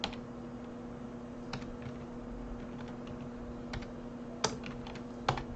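Fingers tapping out a name on a computer keyboard, a few sparse, faint clicks and keystroke taps spread over a quiet background hum, with no talking.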